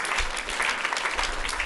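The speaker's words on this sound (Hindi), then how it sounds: "तो अवनीश जी के लिए ताली बजाई भाई" An audience at a gurukul gathering bursts into steady, dense applause, many hands clapping loudly and evenly throughout.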